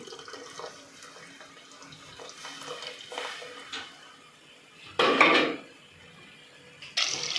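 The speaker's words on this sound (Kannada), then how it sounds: "ನೀರು ನೋಡಿ ಎಷ್ಟು ಬೇಕಷ್ಟು ಸಾಂಬಾರಿಗೆ" Water poured into a pot for mung bean sambar, heard as a few short splashing bursts, the loudest around the middle and another near the end, with quiet kitchen clatter between them.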